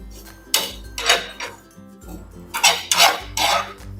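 Whole spices dry-roast in a pan for a village-style karonda pickle, with bursts of scraping and clattering as a utensil stirs against the metal, coming in uneven strokes with short pauses, close and fairly loud.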